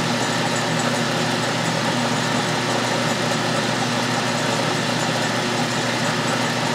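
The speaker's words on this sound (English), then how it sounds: "Feeding slowly to try to get a good cut." An Atlas metal lathe turns a thread protector under a slow feed, giving a steady, continuous machine hum with broadband cutting noise that stays even and fairly loud throughout, with no talking.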